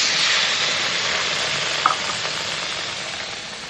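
Mustard seeds, green chilli and tomato fry in a pan with a loud, broad, continuous hiss that fades slightly over time, with a single brief clink partway through.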